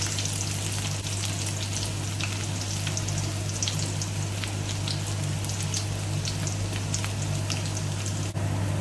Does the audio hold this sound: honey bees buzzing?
no